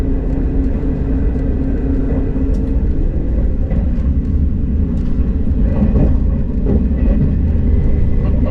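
A KTX high-speed train runs on the Gyeongbu high-speed line after the Sindong connecting line, giving a loud, steady low rumble with continuous rolling rail noise and faint higher squeals throughout, heard from close by with no voices.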